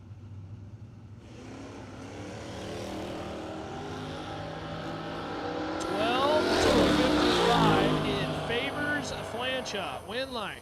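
Drag race cars, including a Pontiac Firebird, launch down a drag strip at a bracket racing event, engines roaring and revving up loudly, rising to a peak and then sweeping past, with a voice speaking over the noise.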